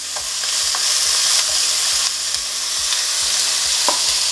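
A curry powder sauce simmering and spitting in a pan, a loud steady sizzle with faint scraping ticks throughout, no voices.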